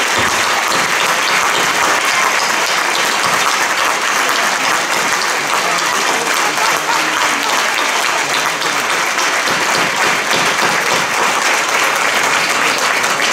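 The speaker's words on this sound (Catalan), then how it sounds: "vos demano un fort aplaudiment per ell" A large audience at a Falles presentation in Benicarló applauds loudly and without pause, a thick wall of clapping lasting the whole stretch.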